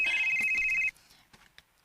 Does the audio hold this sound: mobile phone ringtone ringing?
yes